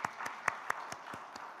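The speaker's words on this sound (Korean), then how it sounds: "우리 하나님께 영광의 박수 올려드리겠습니다" A church congregation claps during a Sunday worship service, a handful of distinct, fairly soft claps spaced about a quarter second apart over a quiet room.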